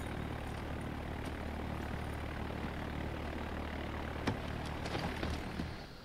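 A propeller plane revving up for takeoff in Far Cry 4, a continuous engine drone with a low steady hum that swells slightly near the end, heard at a moderate distance.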